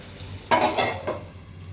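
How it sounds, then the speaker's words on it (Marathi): Capsicum (shimla mirch) cooking in a pan with salt, about to be covered to steam: a soft sizzling hiss with a brief stirring scrape, a short burst of moderate frying noise in a quiet kitchen. "थोड्या वेळ झाकण ठेवायचं आणि जवळजवळ अर्धा ते 1 मिनिट ही शिमला मिर्च वाफेवर होऊ द्यायची."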